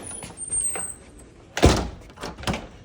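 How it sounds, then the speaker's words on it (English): A sticking door catching as it is pulled open, soft scrapes and rattles followed by one sharp thunk and a smaller knock, close up and otherwise quiet. "do something with this door. It's catching."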